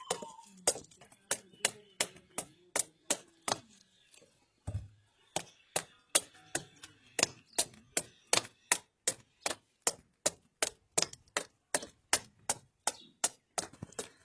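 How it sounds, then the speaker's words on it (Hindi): A knife chops ash gourd (petha) into pieces on a surface covered with cloth, giving a long run of sharp, evenly spaced close chopping knocks with a brief pause early on. "अब शुरू करते हैं पिट्ठे को काटना।"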